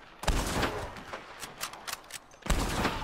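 Gunfire in Red Dead Redemption 2 cracks out in bursts, loud sharp shots clustered at the start and end with scattered single reports between, no talking.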